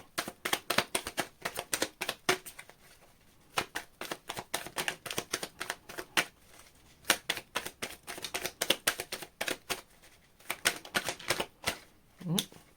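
Crisp, rapid riffling of tarot cards being shuffled close by, in repeated bursts separated by short pauses.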